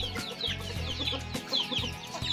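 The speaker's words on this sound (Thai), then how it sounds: "นี่จะเป็นแม่ไก่ของเรา" A mother hen clucks in short, repeated bursts at close range, over a steady low background hum.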